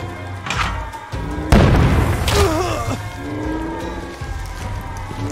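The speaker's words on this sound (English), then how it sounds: "Grenade!" A grenade goes off in the video game We Happy Few as a sudden close boom, followed by rumbling debris and scattered impacts over a steady ambient background.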